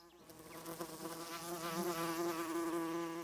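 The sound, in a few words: bee buzzing while gathering nectar from a flower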